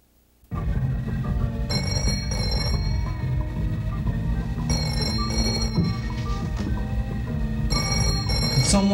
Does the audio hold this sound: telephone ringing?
yes